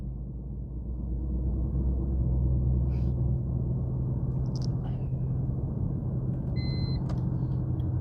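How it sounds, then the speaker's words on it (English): Steady road rumble from inside a car moving on a freeway, with a brief electronic beep chiming near the end. "There is the beep."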